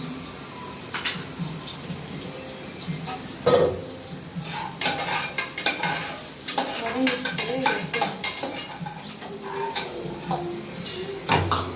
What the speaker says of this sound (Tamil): கடாய் இங்கே வச்சிருக்க மிளகு சீரகம் வறுத்துட்டு காஞ்சிட்டு எடுத்துக்கலாம்